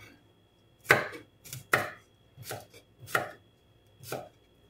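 Garlic chopped with a knife on a board, six distinct sharp chops in an uneven rhythm with short pauses between them, close and fairly loud, no talking.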